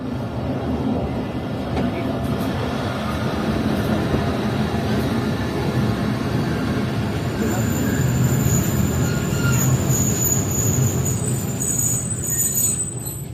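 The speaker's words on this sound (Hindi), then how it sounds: "2 मिनट रुकने के बाद ट्रेन निकल रही है किला अब्दुल्ला रेलवे स्टेशन से" The Chaman Passenger train pulling out of Killa Abdullah railway station, a steady close rumble of wheels and carriages with high metallic squeals rising in the later part, continuous throughout.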